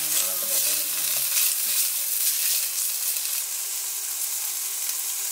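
Pancetta frying in a dry pan gives a loud, steady sizzle and crackle that runs without pause, with faint stirring scrapes underneath and no voices.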